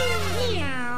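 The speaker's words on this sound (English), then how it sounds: "How would they think to turn Mario into a cat" A cartoonish cat meow from Cat Mario in the video game Super Mario Maker 2, a single rising-and-falling mew about a second long, clear and alone over a steady low game-music hum.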